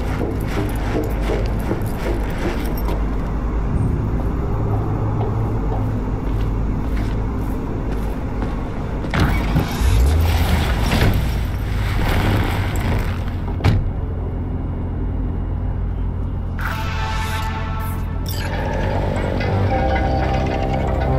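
Car engine rumbling steadily while driving in the Cyberpunk 2077 game, a constant loud drone throughout with a few louder bursts and bumps mixed in, plus a brief clattering passage near the end.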